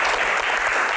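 Audience applause at a disaster-management Q&A session, a dense, steady burst of clapping from a crowd that holds at full level from start to finish, with no voices above it.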